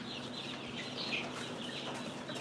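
Soft, distant cheeping and clucking of young chicks being raised as pullets in a farm brooder room, a quiet, steady chorus with a brief brighter burst of chirps in the middle.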